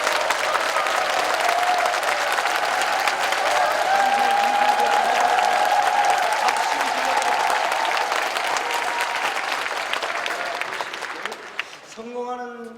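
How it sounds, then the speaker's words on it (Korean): A church congregation applauds a guest pastor at a thanksgiving service, steady sustained clapping filling most of the stretch before fading out, with a voice and music tones entering at the end. "우리 박수 한번 합시다."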